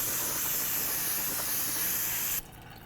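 A long, loud hiss of aerosol spray on a car's brake rotor, held for over two seconds, then cut off abruptly.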